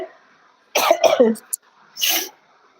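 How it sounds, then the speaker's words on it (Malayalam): Two bursts of harsh, close coughing separated by a brief pause, with a short throaty sound between them. "ഈ ചുമ എന്നെ കൊണ്ടേ പോകത്തുള്ളു പിള്ളേരെ"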